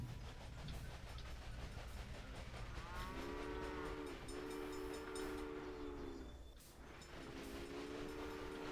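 Rumbling train in Railway Empire running steadily, with a harmonic whistle or horn sounding in several long blasts over the engine noise.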